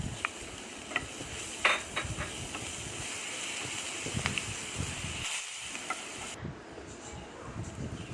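Crushed ginger, garlic and green chili hit hot oil tempered with curry leaves, making a hissing sizzle with scattered spoon taps and stirring scrapes, then settling into a quieter fry toward the end.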